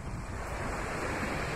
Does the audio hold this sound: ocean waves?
yes